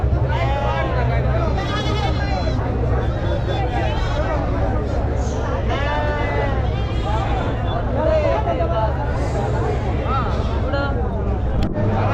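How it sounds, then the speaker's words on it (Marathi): Sheep bleating repeatedly among goats at a busy livestock market, wavering calls overlapping over a constant loud crowd babble and general market noise. "मेंढे पाहू शकाल मित्रांनो फुल मध्ये मेंढे आहेत बघा"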